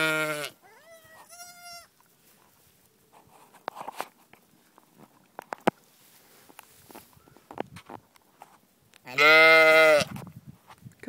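A goat bleats in short harmonic calls, two brief ones early and a loud, longer bleat near the end, with scattered rustling and shuffling between.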